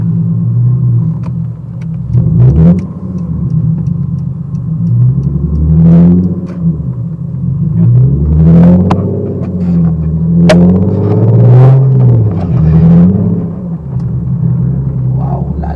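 A Hyundai Genesis sports car with a full exhaust rumbles loud and deep from close by, its low drone swelling in repeated throttle surges as it idles and pulls away, with occasional voices under the engine.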